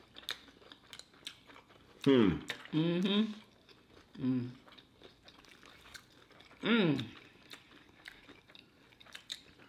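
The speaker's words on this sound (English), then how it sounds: "That crunch is good." Crunchy fried chicken from a Golden Chick takeaway is bitten and chewed up close, giving soft crunching bites between louder bursts of voices talking over the meal.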